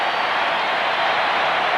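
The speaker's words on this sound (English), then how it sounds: "The Minnesota crowd wants a strikeout." Loud, continuous din of the Minnesota home crowd at a 1991 World Series Game 7 baseball game, a dense unbroken roar of cheering fans.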